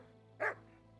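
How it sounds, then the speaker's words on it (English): A single short dog bark from a horse-riding medieval scene in Kingdom Come: Deliverance II, one clear yap over a low steady ambient hum. "Silly doggy."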